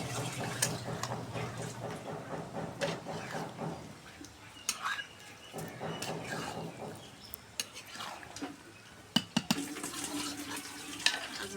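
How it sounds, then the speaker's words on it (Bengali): Chicken skin and potatoes stir-fried together in a pan, with a soft sizzle under repeated scraping and clinking of a spatula against the metal, plus a few sharper knocks. "একসাথে এটা আলু আর মাংসটা কষে নেব।"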